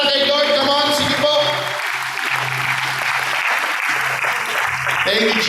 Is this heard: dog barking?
no